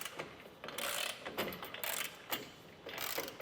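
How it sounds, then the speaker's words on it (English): A ratchet fitted with an 11/16 socket tightens down a truck bed ladder rack on a 2024 Ram 1500, making a series of close, bursty clicks and rasps in short, uneven strokes. "we're going to grab an 11/16 socket and tighten this down into place."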